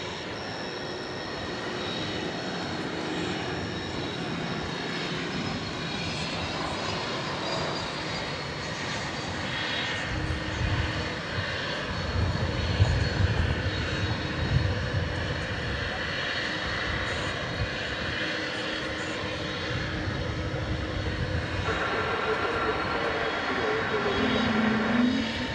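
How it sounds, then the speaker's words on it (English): Delta flight 870 from Seattle arrives at Dallas Fort Worth airport at night. A steady jet-engine rumble from a moderate distance runs throughout, swelling in the middle and again near the end. "We've got Delta flight 870 coming in from Seattle."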